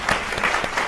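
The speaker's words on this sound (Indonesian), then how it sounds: "tepuk tangan tolong untuk Mbak Santi." Brief burst of audience applause at an event, steady clapping from a crowd filling the whole moment with no talk over it.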